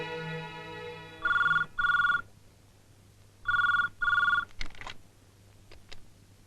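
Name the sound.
telephone ringing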